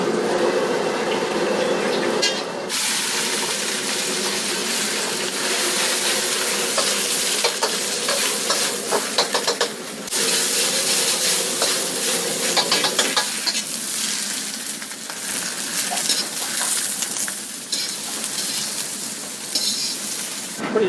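Vegetables stir-fried in a wok in a busy Chinese restaurant kitchen in Hyogo, a loud continuous sizzle with scraping and stirring that swells and dips throughout, other kitchen clatter in the background.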